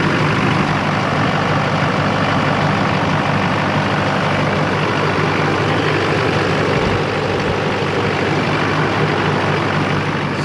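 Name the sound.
Chevy/GMC LLY Duramax diesel truck idling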